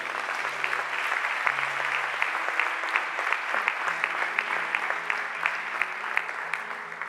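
A church congregation applauds during a Spanish-language sermon by Ps. Alexander Castro, with steady sustained clapping from many hands, moderately distant and even, and a faint low tone held beneath.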